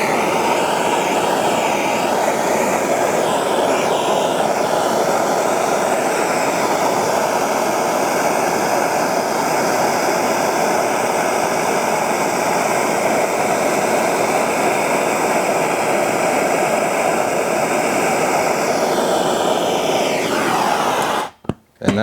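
A MAP Pro gas torch roars steadily and loudly up close while heating a copper solder joint on a shower valve, a continuous rushing hiss that holds for about twenty seconds before cutting off abruptly.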